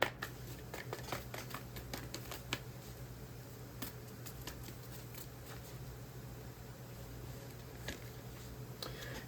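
Moonology oracle cards shuffled by hand, a quiet run of soft riffling clicks and flicks in bursts over a low steady hum.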